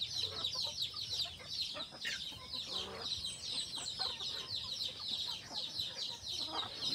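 Chickens clucking with high, thin chick cheeps running steadily throughout, close by and moderately loud in a farmyard setting, with no talking.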